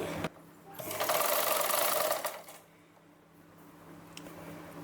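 A sewing machine stitches a lined blouse in one close, loud whirring run of about a second and a half, then stops, leaving quiet room noise.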